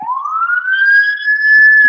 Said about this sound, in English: I think that's the ambulance now.